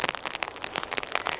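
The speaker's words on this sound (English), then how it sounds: "the updated forecast is for the rain to be heaviest around now" Heavy rain pattering on a car during car camping, dense irregular drops drumming steadily and fairly close with no talk.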